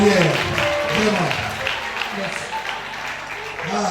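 Audience applause at the quarter-final stage of a vocal competition, a broad wash of clapping that runs for the whole stretch with a host's voice talking over it.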